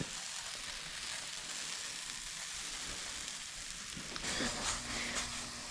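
Salted salmon cakes made with almond flour sizzle and fry steadily in a pan, a dense even crackle at moderate loudness, swelling slightly toward the end with a light clink.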